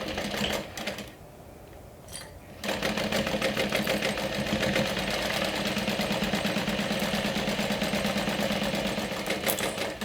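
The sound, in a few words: sewing machine stitching a 1/4 inch seam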